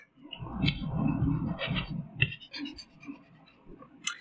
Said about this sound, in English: I'm erasing extra lines that I drew for sketching purposes.